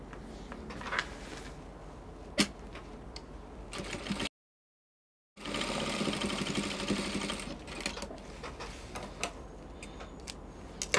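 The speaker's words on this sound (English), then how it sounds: "Then you turn it to the wrong side, and then you are going to top stitch the bias." A sewing machine top stitches bias binding on a dress in steady rapid runs, close and clear, with a brief silent gap midway and small ticks between stretches.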